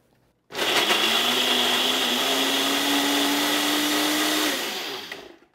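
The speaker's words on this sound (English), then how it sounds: "Let's make some blender cheese." A blender whirs at full power grinding a mix of Parmesan and aged grana padano cheese, switching on sharply, roaring steadily and close for about four seconds, then winding down and stopping, with no talk.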